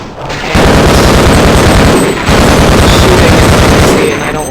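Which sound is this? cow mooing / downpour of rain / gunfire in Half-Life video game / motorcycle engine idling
gunfire in Half-Life video game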